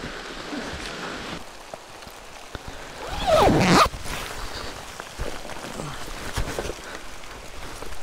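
A jacket zipper is pulled up in one quick, loud rasping stroke, close to the microphone, while rain patters steadily on a surface all around during a motorcycle ride.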